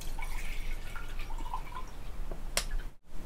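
Cold water is poured to mix a Preaw chlorophyll powder drink, giving a continuous soft pouring and trickling sound with a few sharper drips near the end.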